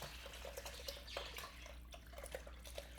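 Hog head broth pours through a colander in a faint, steady liquid stream with light dripping and splashing, quiet and close in a home kitchen, with no talking.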